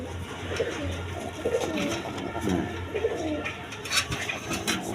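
Gorra pigeons cooing in a loft with eggs and a freshly hatched chick, low repeated coos rising and falling steadily over a busy background hum, fairly close.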